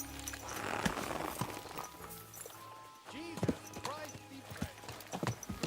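Horse hooves clip-clop at a steady gait in Kingdom Come: Deliverance II, moderately close, mixed with game ambience and spoken dialogue between characters.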